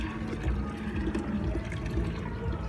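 Water splashes and pours during Songkran water play, a steady rushing, sloshing wash of liquid heard close and continuous for a few seconds with no voices.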